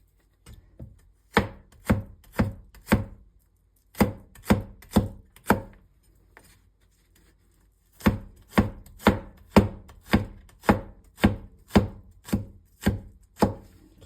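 A knife chops finely through crushed garlic on a board in quick bursts of sharp, even taps, pausing briefly between runs, close and clear with no talking.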